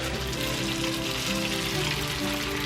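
Tofu pieces frying in hot oil for a vegan fried chicken sandwich, a steady dense sizzle and crackle holding at an even level throughout, close up, with no talking.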